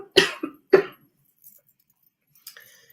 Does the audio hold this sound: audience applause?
no